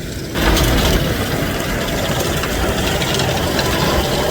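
A self-propelled beet harvester runs during a cold start on a farm. A loud, steady mechanical roar of engine and moving parts kicks in abruptly after a brief quieter moment and then holds constant, with no voices.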